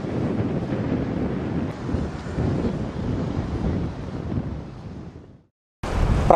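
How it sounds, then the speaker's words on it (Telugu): Floodwater rushes through the opened gates of the Prakasam Barrage as a loud, continuous roaring wash buffeted by wind, cutting out briefly before the roar resumes. "గేట్లను ఎత్తివేసి దిగువకు నీటిని వదులుతున్నారు"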